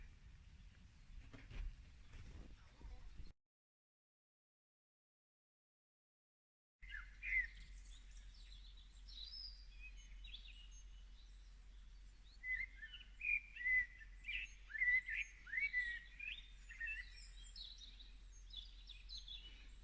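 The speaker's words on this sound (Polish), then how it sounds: "Te piękne ptasie trele to znak, że zbliża się powoli wieczór." Bright chirping birdsong at dusk with repeated trills and calls over a steady low hum, after a brief silent gap; the birds are moderately close and lively.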